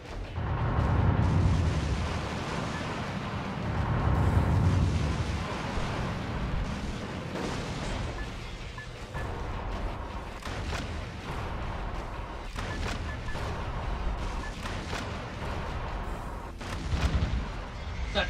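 Heavy booming tank artillery fire and explosions in the video game Metal Wolf Chaos XD, two big low blasts early on followed by sustained rumbling battle noise and scattered bursts throughout.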